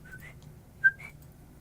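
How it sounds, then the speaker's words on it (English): A soft human whistle meant to call dogs: two short pairs of gentle rising notes, quiet and close, separated by a brief pause, with no talk. "I'm just gonna kind of do like a soft whistle to see if I can get the puppy children"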